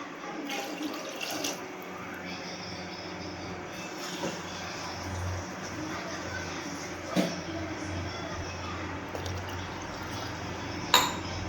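Water poured onto black kavuni rice in a pot for payasam, a steady watery wash running throughout with a few faint knocks of pans and dishes in a kitchen.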